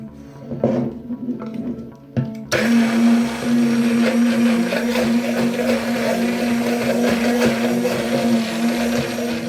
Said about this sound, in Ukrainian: Тепер за допомогою блендера я збиваю всю цю суміш.